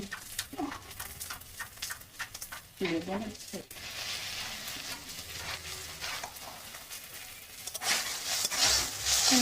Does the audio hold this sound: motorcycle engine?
no